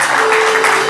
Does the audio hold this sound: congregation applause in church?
yes